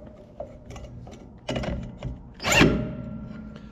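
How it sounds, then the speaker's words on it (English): Metal bolts clink and thunk as they are dropped in and tightened on the left-hand wing of a Case 490 disk, a few close, irregular knocks and a louder scraping clank near the end. "we'll drop these last two bolts here in and tighten that thing up."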